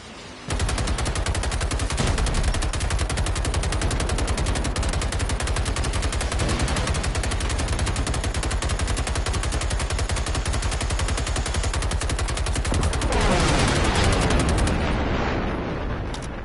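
Machine gun fire in a mech combat video game, one long unbroken stream of rapid, loud shots lasting the whole burst, with no speech.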